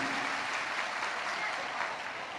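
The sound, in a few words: loud applause welcoming Yogi ji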